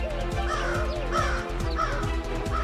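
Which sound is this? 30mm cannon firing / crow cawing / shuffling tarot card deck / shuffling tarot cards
crow cawing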